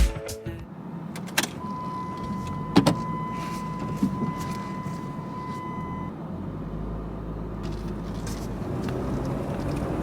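Cabin sound from inside a car on a trip to Tahoe, with a steady low road rumble, a brief whirring power-window-like motor and a few thumps and clicks from close by, with no talking.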